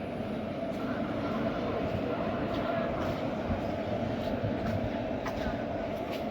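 Inside a coach of the Pandharpur Nizamabad Express, a steady loud rumble of the moving train continues evenly throughout, with faint clatter on top.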